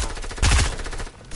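Gunfire in a PS4 video game: a rapid, dense burst of automatic shots crackling close and loud, rattling for over a second.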